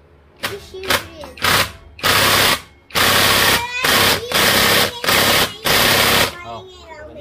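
An impact tool works on the clutch of a Honda Click 125 scooter. It fires in about seven loud, harsh, rattling bursts close by, with short pauses between them.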